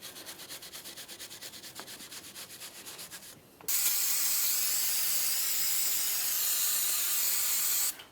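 Steady abrasive scrubbing against the mounting surface of a front wheel hub on a 2004-2015 Nissan Titan, first in quick rhythmic strokes, then a loud continuous hiss-like rush that runs several seconds before stopping abruptly.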